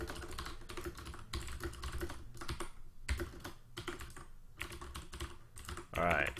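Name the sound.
typing on a computer keyboard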